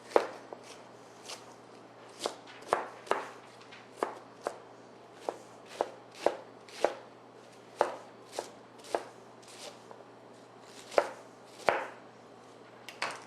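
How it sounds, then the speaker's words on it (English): A knife chops cabbage for cole slaw on a cutting board, sounding as about two dozen crisp, evenly spaced thunks at a relaxed steady pace, close and clear with no speech. "If you like, you could chop it a little finer."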